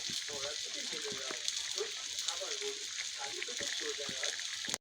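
Fish added to a simmering curry sizzles and crackles steadily in hot oil, a soft continuous frying hiss with faint stirring, fairly quiet and close throughout.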